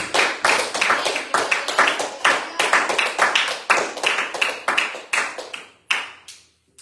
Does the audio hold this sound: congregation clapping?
yes